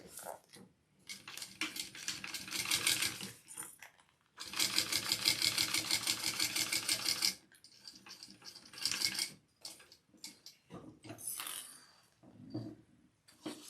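A sewing machine runs in bursts while topstitching a pressed-open bag seam, with rapid needle clatter in several runs of varying length, the longest steady burst near the middle, set among small clinks and handling noises.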